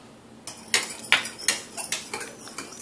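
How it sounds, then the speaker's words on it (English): Utensil scraping and clinking against a pan while eggs are stirred, a series of sharp metallic taps and scrapes at an irregular, quick rhythm, close and fairly clear with no talking. "go ahead and stir your eggs a little more"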